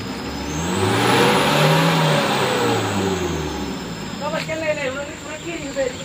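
A car engine revs hard and climbs in pitch as the vehicle accelerates on a road near a collapsed stretch at Batu Jomba, loud and close, with people talking over it toward the end.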